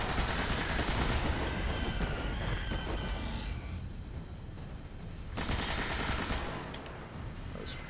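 Dense, continuous automatic gunfire from a first-person shooter, Destiny: The Taken King, heavy bursts that ease off briefly midway and then return at full strength, with no talking over it.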